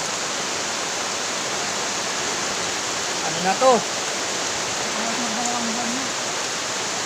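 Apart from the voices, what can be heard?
strong wind and gusty rain in Subic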